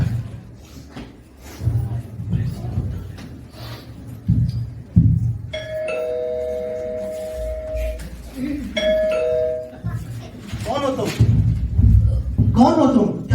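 A house doorbell chimes clearly at a Christmas celebration, a two-tone electronic ding-dong ringing out twice in the middle, surrounded by footsteps, thumps and people talking.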